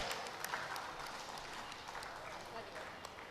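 An audience claps at a televised Tamil debate show, a faint, steady, crackling patter of many hands that sounds distant and continues throughout.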